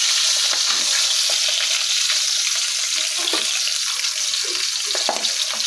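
Pieces of rohu fish fry in oil in a home kitchen, giving a continuous bright hissing sizzle with faint clinks and splashy textures, steady and fairly loud, with no talking.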